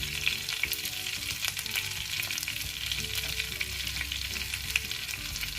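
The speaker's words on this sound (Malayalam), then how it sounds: "ഇനി ഇതിലോട്ട് കുറച്ച് ഗാർലിക് ചേർത്ത് കൊടുക്കാം." Garlic sizzles in melted butter in a pan, a steady close-up frying crackle with light stirring scrapes throughout and no talk.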